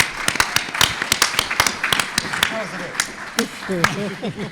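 Sparse, uneven clapping from a small audience at a panel on mass incarceration in America, with individual hand claps standing out and voices talking over them.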